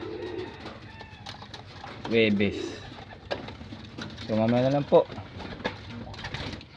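Pigeons coo in two short bursts from a kept flock during feeding, under soft talk and background noise.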